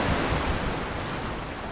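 Stormy ocean waves surge in a steady, loud roar of broadband surf and wind, continuous throughout with no voices.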